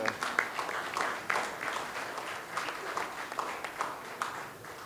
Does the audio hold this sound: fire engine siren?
no